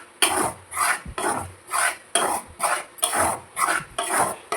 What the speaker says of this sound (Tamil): அந்த பாத்திரத்தில் 3/4 கப்பு எடுத்தோம், அதை கொட்டி வறுக்கிறேன்